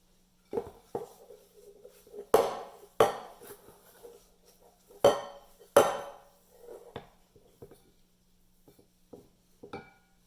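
Spoon scraping and knocking against a bowl while mixing homemade play dough, irregular sharp clinks and scrapes in bursts with quieter pauses between.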